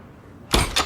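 A cartoon door, from the animated series Duckman, opens abruptly after a stretch of near silence: a loud burst of clatter followed a moment later by a second short knock or bang.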